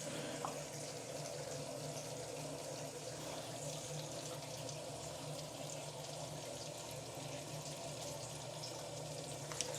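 Tap water runs steadily down a freshly unclogged bathroom sink drain, a continuous even rushing and gurgling wash at moderate distance with no talking.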